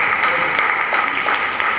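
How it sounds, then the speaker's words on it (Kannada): An audience at the valedictory ceremony of a spring Vedic study camp bursts into a short, dense round of applause, a thick wash of many hands clapping at once at a steady, fairly loud level. "ಅವರಿಗೊಂದು ದೊಡ್ಡ ಚಪ್ಪಾಳೆ ಕೊಡುವ ನಾವು"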